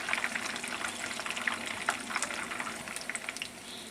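Peshawari chapli kababs fry in a pan with a steady crackling sizzle and scattered sharp pops from hot oil, close and fairly quiet, with no talk.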